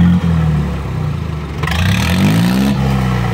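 A tractor engine revs loudly nearby, its low throb rising and falling with clattering mechanical noise as the throttle opens up.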